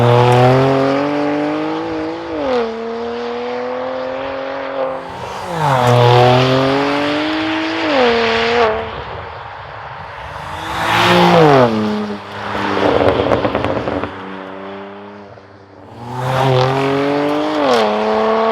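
A Litchfield-tuned BMW M2 Competition with a Milltek equal length exhaust accelerates hard through the gears in repeated surges, the engine note climbing and dropping at each shift, loud and close with no voices.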